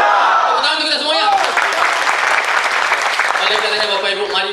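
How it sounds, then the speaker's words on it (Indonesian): Audience applause breaks out at an Indonesian corporate training kick-off seminar, starting with a voice and swelling after about a second into dense, loud, sustained clapping that runs steadily to the end. "tepuk tangan untuk kita semuanya"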